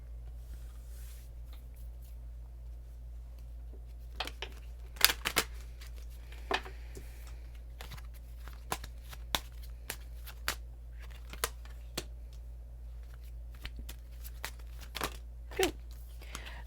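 A deck of tarot cards is shuffled by hand, giving scattered soft riffles and snappy flicks at close range over a low, steady background hum.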